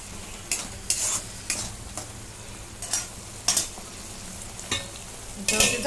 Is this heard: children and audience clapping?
no